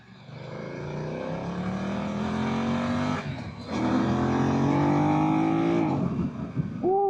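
A 2025 BMW F 900 R motorcycle engine revs up under hard acceleration, pitch climbing steadily through the gears with a brief dip at a shift, loud and close from the rider's position.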